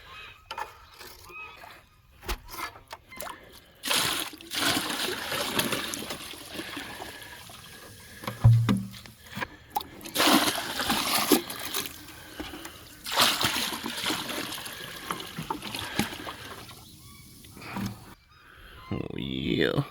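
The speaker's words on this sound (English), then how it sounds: "I'm adding some more water into their trough here." Water splashes and pours into a sheep trough in irregular bursts, with bleats, rustling and a voice now and then between the pours.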